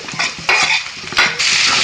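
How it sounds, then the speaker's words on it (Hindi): Cooked carrots with turmeric and banana pieces are stirred in a pan, giving scraping, sizzling swishes in two or three strokes. The sound is close and fairly loud, with no voices. "इसे अच्छे से मिक्स करना है"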